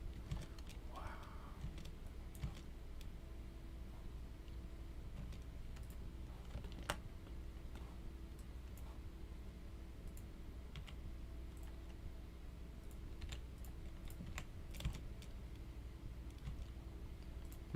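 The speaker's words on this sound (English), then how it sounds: "I was like typing the word red because you can type it with only your left hand." A computer keyboard is typed on in a quiet room: faint, scattered clicks and short bursts of keystrokes against a low steady background hum.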